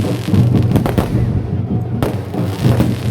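Fireworks booming at a temple chariot festival for Sri Veerabhadra Swamy, a dense run of loud cracking blasts and rumbling echoes, close and continuous, with crowd voices faintly underneath.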